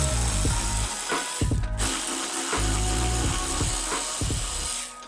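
An impact driver or power ratchet rattles in repeated loud bursts removing bolts on a Ford Bronco, starting and stopping several times at close range.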